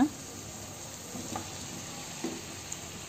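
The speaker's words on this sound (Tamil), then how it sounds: "இப்போ உருளைக்கிழங்க சேர்த்துக்கோங்க சேர்த்து நல்லா கிளறி விட்டுக்கோங்க" Baby potatoes are stirred into a spicy masala gravy in a pan. A quiet, even sizzle carries on throughout, with a few soft scrapes of stirring spaced well apart.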